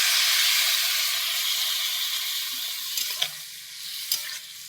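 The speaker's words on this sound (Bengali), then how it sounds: "এবার হালকা করে নেড়ে নিচ্ছি।" A soybean and potato vegetarian curry sizzles steadily in a pan as it is gently stirred, with a couple of soft scraping clinks of the spoon near the end.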